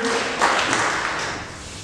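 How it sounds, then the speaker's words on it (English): An audience gives a brief round of applause for Sarah, a steady wash of many hands clapping that fades out within two seconds, with no voices over it. "Everybody give Sarah a great round of applause."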